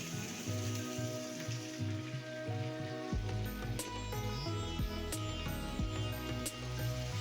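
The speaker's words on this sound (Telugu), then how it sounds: "ఇప్పుడు ఈ ఉల్లిపాయలు కూడా వేసుకొని బాగా ఎర్రగా వేయించుకోండి" Small onions fry in hot oil until browned for an onion and fenugreek pulusu, giving a steady close sizzle with scattered crackles and a few clatters of a steel plate or utensil.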